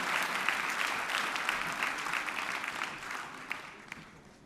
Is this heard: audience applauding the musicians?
yes